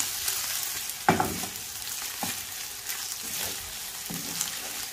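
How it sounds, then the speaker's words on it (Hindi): Chicken and vegetables frying in a pan for fried rice, a steady soft sizzle broken by a few sharper stirring scrapes, close by and with no talk. "इसको अच्छे से भून लेना है ताकि इसका अच्छा जो है कलर चेंज हो जाए।"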